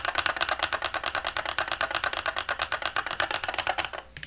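Rapid, even keystrokes on a Keychron keyboard fitted with GMK keycaps, a dense clacking rhythm of about ten presses a second, close and loud, then stopping abruptly near the end.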